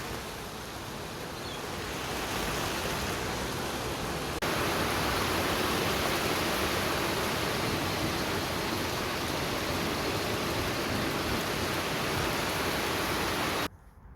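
Heavy monsoon rain pours steadily as a dense, continuous roar of hiss and patter, close and loud, swelling slightly after the opening seconds and holding until a sudden drop at the very end.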